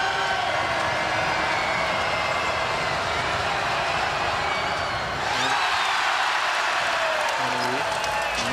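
A basketball arena crowd in Edmonton roars steadily and loudly, a dense wash of cheering and applause that holds throughout, with a commentator talking over it.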